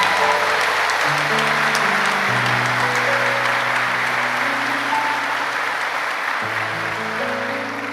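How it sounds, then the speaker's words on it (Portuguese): A church congregation bursts into loud, sustained applause, a dense wash of clapping hands heard throughout alongside held sustained musical tones that shift in pitch. "dá uma salva de palmas a Jesus bem forte"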